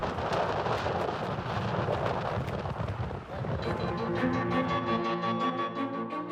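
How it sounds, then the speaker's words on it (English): A ferocious storm batters a tented camp near a volcano crater, loud continuous wind roar with rumbling thunder-like booms throughout, followed by a sustained musical tone rising over the noise. "Now, we just need to hunker down and ride out this ferocious storm."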